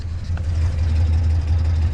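A 1960s car engine idles steadily after a cold start, a deep, even low rumble holding close and constant with no voices over it.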